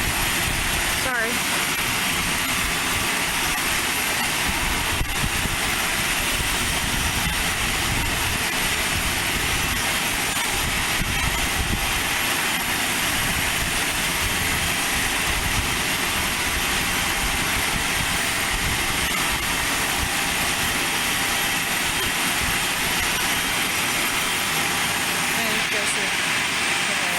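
A small airplane at Aurora Municipal Airport (KARR) runs its engine with a loud, steady roar that holds for nearly half a minute, along with heavy broadband wind and rumble.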